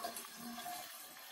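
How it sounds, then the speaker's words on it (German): Water poured from a jug into a flower vase while arranging allium stems, a short, soft trickle and splash close by, faint and continuous. "Jetzt geben wir mal ein bisschen Wasser in die Vase."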